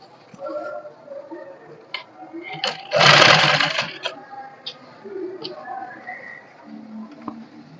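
A sewing machine stitches a trouser hem in one loud, dense burst about a second long, surrounded by quieter clicks and handling of the fabric.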